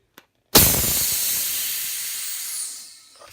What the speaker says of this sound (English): first I gotta release the air, so turn down your volume